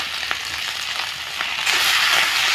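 Potato filling sizzles as it is stirred and fried in a pan, a steady hiss with a few soft scraping strokes that swells louder toward the end.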